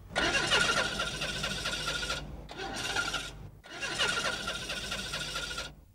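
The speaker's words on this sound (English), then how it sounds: "The car did eventually start" A grey Ford Sierra's engine cranks repeatedly, the starter grinding in two long bursts separated by a short one, loud and close with no voices.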